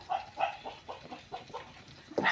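Several short barks from dogs at moderate distance in Cebu during a typhoon, spaced irregularly, with a louder bark at the end.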